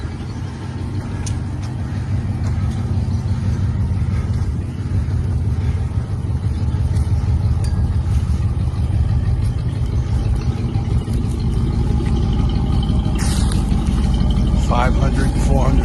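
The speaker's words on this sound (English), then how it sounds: "V8 Cadillac engine from the factory." A big 1970 Cadillac Eldorado's factory 500 cubic inch V8 runs steadily with a deep, continuous rumble held at an even level throughout, with no talk over it.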